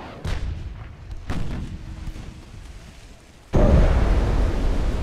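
Naval guns boom in the warship game Ultimate Admiral: Dreadnoughts: two distant heavy shots with rumbling tails, then a much louder close salvo that roars on to the end.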